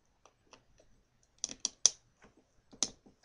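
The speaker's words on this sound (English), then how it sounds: "these guns can move all the way around. That little clicking sound, really good for animations." A 1995 ToyBiz Iron Man MODOK action figure has its small plastic guns rotated, producing a quiet series of sharp ratcheting clicks, a few louder snaps clustered together against silence.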